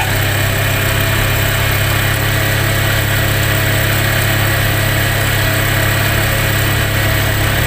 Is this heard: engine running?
yes